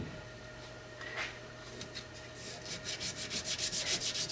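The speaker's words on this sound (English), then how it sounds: "Just wrap that in that sandpaper. And then I'm going to polish the disconnector track right here." Sandpaper wrapped around a stone polishes the disconnector track of a 2011 pistol, a soft rubbing that quickens into a fast, even back-and-forth rasp, close and fairly quiet.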